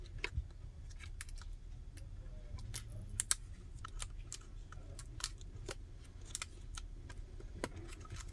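Elastic tape is peeled off the keyboard connector inside an opened Dell G5 5587 laptop, giving faint, scattered crisp ticks and crackles over a low steady background hum, close and quiet.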